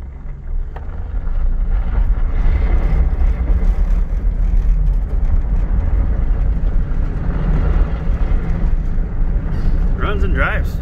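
A 2003 Chevy Suburban LT with a cracked windshield pulls away and drives off at an outdoor auction lot, a loud steady low engine and road rumble with wind buffeting the microphone and a short voice near the end.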